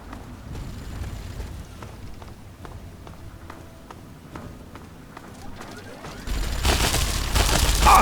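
A minigun firing at mutants and Talon mercenaries in a sewer in Fallout 3: a rapid stream of gunfire rattles underneath, then erupts into a loud, dense roar for the last couple of seconds.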